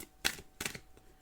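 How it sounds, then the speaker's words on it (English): Tarot cards being shuffled, with two crisp riffling bursts and a fainter flick afterward, close and alone with no talking. "You saw me shuffle them."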